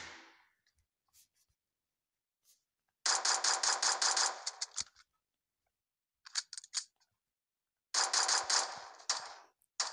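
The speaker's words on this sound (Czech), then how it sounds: "Tak vystřel! Já chci střílet!" Rapid bursts of gunfire from the video game PUBG crackle in short clusters, with a long volley, a few scattered shots and another burst, over otherwise near-silent background.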